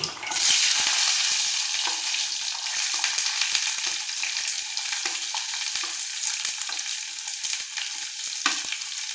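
Onions frying in hot oil with mustard seeds and fenugreek, a loud bright sizzle that stays strong and steady throughout, with faint occasional stirring crackles, close up.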